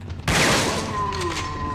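Shotgun blasts in the PS2 video game Resident Evil Dead Aim, a sudden loud boom that rings out with a long decaying tail and lingering echo.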